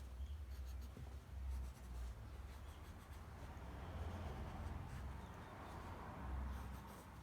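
Marker or pencil scratching steadily across upholstery fabric, a continuous close rubbing drawn out over several seconds, with a low background rumble and no talk.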